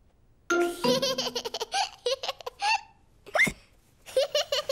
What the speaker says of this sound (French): George a bu son jus de fruits trop vite et maintenant, il a le hoquet.